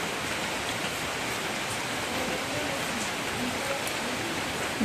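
Rain falls steadily in a continuous, even hiss with no breaks, close and fairly loud throughout.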